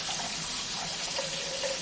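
Broth pours into a crock pot in a steady, close, continuous stream of liquid for a couple of seconds, with no talking.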